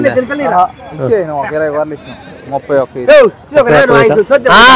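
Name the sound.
sheep and lambs bleating at a livestock market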